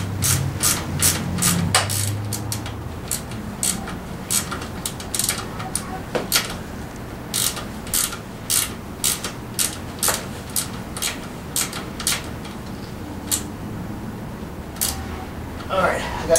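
Ratchet clicking rapidly as bolts are tightened on a Tao Tao 90 dirt bike, close and repeated in quick bursts of strokes across the whole stretch, with a voice speaking briefly at the start.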